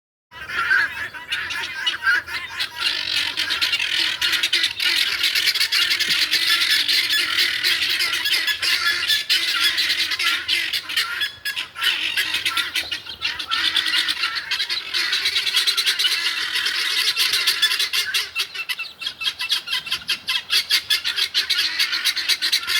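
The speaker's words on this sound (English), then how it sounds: "This herd of guineas just came out of nowhere." A flock of guinea fowl squawking and honking at a campsite near Franklin, North Carolina, a dense, continuous raucous chorus of many birds calling over one another, loud and close, with no speech.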